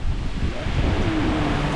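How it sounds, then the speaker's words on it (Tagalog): Strong wind roars steadily and loudly against the microphone at a ceiling construction site, a dense continuous rush with a faint tonal whistle running through it. "Ang lakas ng hangin."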